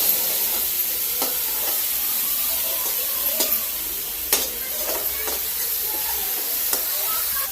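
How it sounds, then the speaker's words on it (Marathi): Green pea paste sautés in a pan for matar karanji, giving a continuous loud sizzle with scattered stirring scrapes and spatula taps close by, without talk. "थोडं घालते आता, थोडीशी परतून घ्यायची, मग आपल्याला वाटाण्याची"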